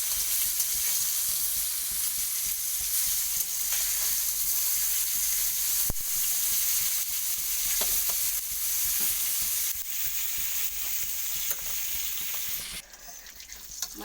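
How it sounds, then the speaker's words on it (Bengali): Fish fry together in hot oil in a kitchen pan, giving a continuous loud hissing sizzle with occasional stirring clatter, steady and close for the whole stretch. "মাছটাকে ভালো করে ভেজে নেব।"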